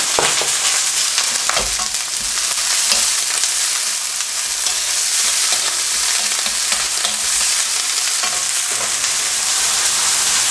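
Ginger with soybeans or broad beans sizzles and crackles loudly and steadily in a hot pan while pork chilli cooks, with occasional stirring clatter and no talking.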